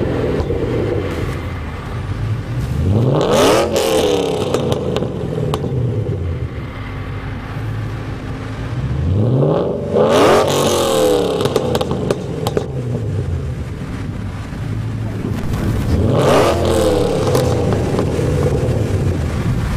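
A 2014 Mustang GT500 with a Kooks exhaust system revs loudly in three long sweeps, each climbing and falling, heard up close outdoors with a steady rumbling idle and some wind buffeting between them.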